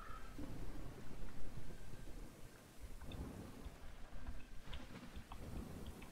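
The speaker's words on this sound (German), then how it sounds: "Und das regnet, jawohl." Steady rain with low rumbling thunder rolls through a stormy scene in the pirate game Tempest Pirate City, a continuous wash of noise with occasional louder swells and no voices.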